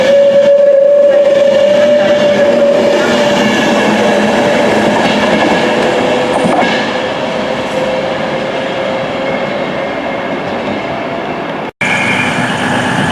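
A Class 220 train rumbles steadily through Birmingham International station, loud and close, with a tonal whine at the start and a brief dropout near the end; no talking.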